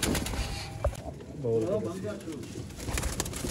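Pigeons of show-quality breeding stock coo softly in low, rolling calls amid background chatter and rustling, fairly faint and close by.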